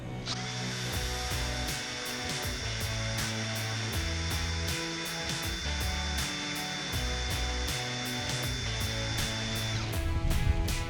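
A drill bit turning steadily in a snapped, rusted bolt stuck in its hole, a continuous close mechanical whine with a regular ticking pulse and a brief rise near the end, no voices.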